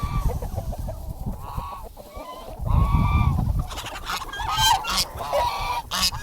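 Loud honking and clucking from a group of poultry close by, overlapping calls with rustling and movement throughout.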